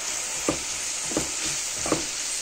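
Seasoned fish and rice mixture stirred in a pan over steady frying sizzle, with three scraping strokes of the utensil at regular intervals, close and clear.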